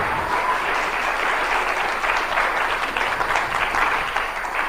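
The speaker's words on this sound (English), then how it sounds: "Give him a round of applause," Steady, dense applause from an audience at a church fundraiser show, loud and continuous throughout, with no talk over it.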